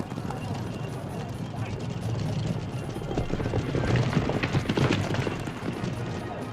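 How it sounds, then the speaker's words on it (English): Steady clip-clop of trotting horses' hooves during race time trials in China, amid a loud, rumbling outdoor crowd, with a voice talking over the scene. "These are time trials for later races, and the horses don't gallop but trot"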